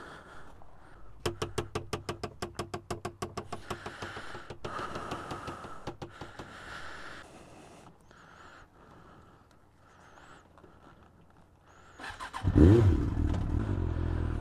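Motorcycle engine cranks and fires with a rapid pulsing idle, revs a little, then settles before a louder surge near the end as the bike pulls away from a residential street where it was parked beside houses.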